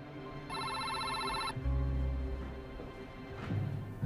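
A single electronic telephone ring sounds for about a second, followed by low rumbling room noise.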